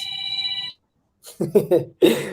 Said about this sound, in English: Stop the ring for me now, please.